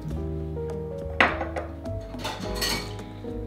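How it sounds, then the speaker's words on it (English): A bar spoon stirs a Manhattan cocktail with cocoa bitters in a mixing glass full of ice, with close, bright clinks and rattling ice in an uneven swirling rhythm, including one sharper knock. "We're gonna stir for about 20 seconds so everything blends well in."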